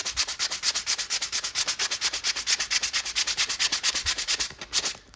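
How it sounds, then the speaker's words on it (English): Rapid, steady back-and-forth rasping of sandpaper on a wooden gizzard shad swimbait, a fast regular rhythm continuing close and loud throughout. "I'm gonna keep sanding that."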